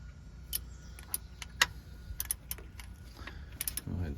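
A wrench tightening a bolt on the front of an engine's camshaft sprocket during a timing set replacement, giving sharp metallic clicks and ratcheting ticks in an irregular series, close and fairly quiet.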